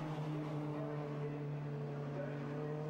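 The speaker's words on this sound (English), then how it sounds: "he's being passed again by the Nissan of Keith Butcher" Touring race cars, including a Nissan and a Honda, lap the Brands Hatch circuit, heard as a steady, fairly distant engine drone with a constant pitch and faint overlapping motor tones.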